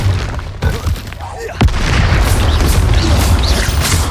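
A Confringo fire spell explodes in a video game with a sharp blast, then a sustained roaring, crackling burst that stays loud to the end of the clip.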